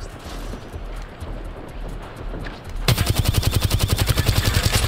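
Rapid automatic gunfire in the video game Apex Legends, a steady burst of closely spaced shots starting partway through and running to the end, loud and close, after a stretch of low background game noise.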